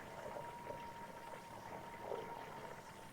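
Ghee simmering in a pan, with fine, tiny bubbles popping in a soft, continuous crackle as the foam dies down. The sound stays quiet and steady throughout, with no talking.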